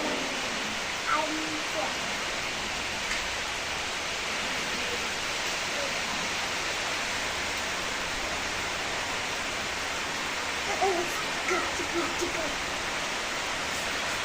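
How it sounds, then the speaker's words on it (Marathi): Steady rain falls in a constant broadband hiss, with faint voices briefly audible beneath it. "पहिल्या गुरुवारीच पाऊस पडायला आहे"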